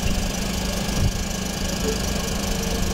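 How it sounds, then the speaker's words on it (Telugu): A 2020 Maruti Alto 800 LXI petrol car with its engine idling, a steady low hum with a continuous even throb and no revving, close and fairly loud throughout. "ఇంజన్ కూడా స్టార్ట్ చేస్తున్నా"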